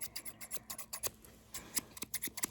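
Scissors snipping close by in a quiet ASMR setting, a rapid series of crisp, separate metallic cuts in an uneven rhythm with no talking.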